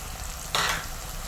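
Ground spice powders, coriander and chilli, hit hot oil for a Kerala fish curry, a sudden short sizzle bursting up halfway through and fading, over a low steady background hum.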